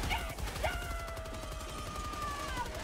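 Rapid automatic gunfire from Helldivers 2 rattles continuously and up close for a few seconds, a dense string of quick shots with a whining, sweeping tone over the top.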